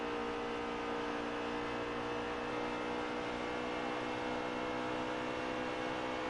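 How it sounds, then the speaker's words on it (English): In the video game Potentia, a race car engine hum holds steady and fairly loud throughout, a continuous buzzing drone with no distinct passes and no speech. "As you hear the engines go by."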